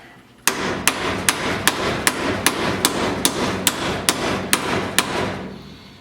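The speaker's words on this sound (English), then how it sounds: "you're basically beating on the U-joint, not moving it" A hammer beats on a U-joint clamped in a vise, about a dozen sharp, evenly spaced metallic blows close by, with no talk.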